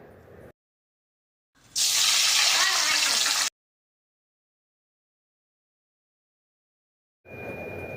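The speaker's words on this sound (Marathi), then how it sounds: "त्यामध्ये आपण आता पाणी ॲड करूया" Water poured into a cooking pan for jowar flour shengole, a short steady gush of pouring lasting under two seconds between silent gaps, with brief talk before and after.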